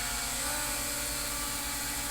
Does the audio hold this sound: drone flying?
yes